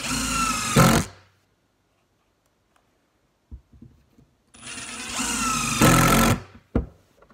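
A Ridgid Octane brushless power tool revs in two loud bursts separated by near silence, each whirring run ending abruptly, with a few faint knocks and clicks in the gap and after.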